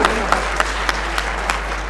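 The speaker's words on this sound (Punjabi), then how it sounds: "ਇੱਕ ਵਾਰੀ ਤਾਲੀਆਂ ਹੋਣੀਆਂ ਚਾਹੀਦੀਆਂ" Audience applause at a Punjabi stage comedy drama, a steady wash of clapping from a crowd with a few sharper claps standing out at regular intervals.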